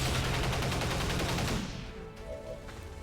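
Heavy rapid gunfire strafes in a video game, a loud dense fusillade for about a second and a half that cuts off into quieter rumbling ambience and faint electronic tones.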